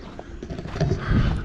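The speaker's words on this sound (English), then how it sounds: "there's a horse got loose and he's a bit wild." A loose, agitated horse moves nearby on rocky ground in Cappadocia, Turkey, its hooves clopping in a quick, uneven rhythm against a noisy outdoor background.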